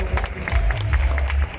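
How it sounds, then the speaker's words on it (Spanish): Crowd applause at a fitness competition for athletes in the bikini master category, a short burst of clapping over a low rumbling hall ambience. "Fuerte el aplauso."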